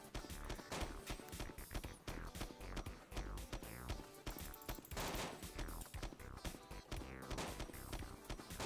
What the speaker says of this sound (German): So schnell sind 100 Schuss weg.